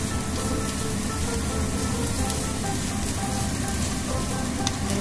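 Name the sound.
coconut pitha frying in a pan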